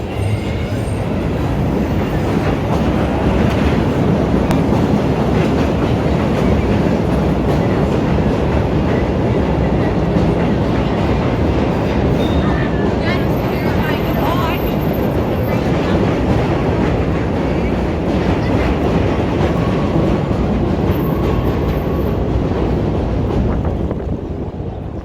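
Trains roll past in downtown Chicago during St. Patrick's Day celebrations, one heading each way, giving a loud, steady rumble with wheel clatter and wind buffeting across the whole stretch.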